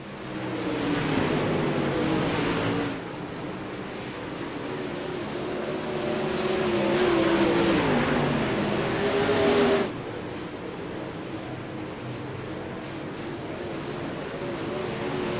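Race cars roar past on a track at a Knoxville racing event, a loud sustained engine drone with rising and falling pitch as cars sweep by, one pass fading before another builds, with no voices.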